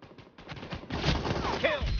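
An M249 machine gun in Peacekeeper Elite fires in sharp bursts, first sparse and quiet, then denser and louder, with a brief voice-like sound in the mix.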